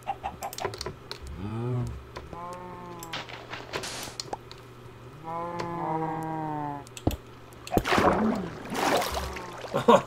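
Cattle mooing in the Minecraft video game, several drawn-out low calls spread through the stretch over background game sounds and faint clicking.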